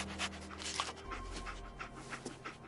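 Dogmeat, the dog companion in the video game Fallout 4, pants in quick, breathy bursts close by, accompanied by game sounds and a faint tonal hum, with no one talking.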